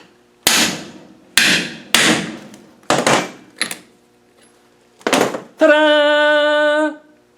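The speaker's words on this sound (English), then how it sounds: "I should have had a bigger hammer, but it's gone in." Sharp metallic hammer blows drive a clip into an Adwest steering drop arm: five or six separate strikes with short gaps, close and loud, then a brief sustained ringing tone at the end.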